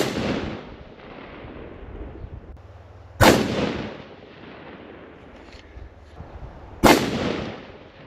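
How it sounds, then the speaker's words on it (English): Two loud rifle shots ring out about three and a half seconds apart, each a sharp crack with a decaying echo, fired during a range test of an ammunition caliber's real-world performance. "We will shoot 3 more shots."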